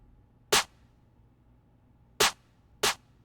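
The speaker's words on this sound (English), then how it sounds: "we started out with the ginseng snare" Three sharp, bright ginseng snare hits from the Dom Corleo sample kit crack out, one alone and then two closer together, over a faint low hum, with no talking.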